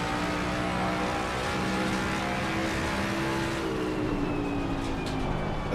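Ford Mustang GT3 race car engine in a driving video game, a loud, steady droning roar with echo and reflections off a wall, holding pitch and then shifting slightly as it runs.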